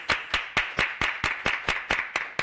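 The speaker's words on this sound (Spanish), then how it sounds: "¡Un aplauso!" Studio audience of a television show applauding, heard as about ten distinct, evenly spaced loud claps in a steady rhythm, close and clear with no talking.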